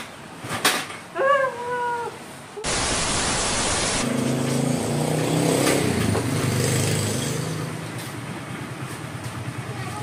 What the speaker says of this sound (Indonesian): Oke, ini sudah saya kickstarter atau sudah saya selah. Untuk motornya sudah nyala ya.